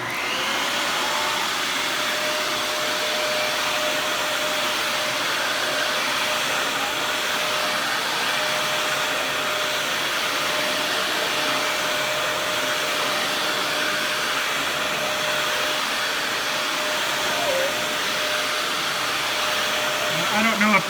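A Dyson DC41 upright vacuum cleaner with an air leak runs continuously at close range, a loud, steady rushing roar with a thin constant whine and no pauses or talk.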